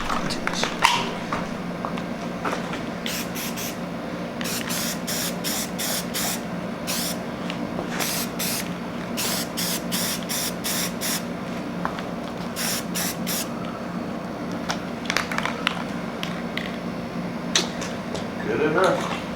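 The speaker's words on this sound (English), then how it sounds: "brake cleaner" Brake cleaner sprayed from an aerosol can in a garage during E30 oil pan and water pump work, heard as repeated short hissing bursts in quick rhythmic clusters, close and fairly loud over a steady background hum.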